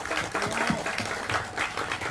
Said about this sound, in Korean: 엄경숙 원장님 큰 박수로 환영해 주십니다